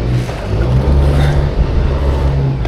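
A catamaran's engine rumbles steadily and loud close by with a low droning hum as the boat manoeuvres forward and in reverse while turning in place.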